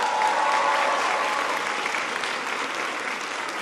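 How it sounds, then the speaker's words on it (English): An audience in a high school gym applauds a governor being introduced, dense continuous clapping from a large crowd that holds steady and eases slightly toward the end. "Give him a big round of applause."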